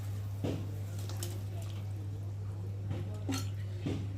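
A spoon stirs fish curry in a pot, making a few scattered light clinks and scrapes over a constant low electrical hum.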